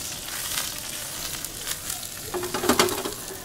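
Shallots and mushrooms sizzle in a frying pan, a steady close crackle with a few brief clinks near the end.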